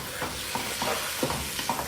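Black lime powder and spices frying with garlic and onion in a pan, a steady sizzle broken by repeated stirring scrapes at an even rhythm, close and moderately loud with no voices.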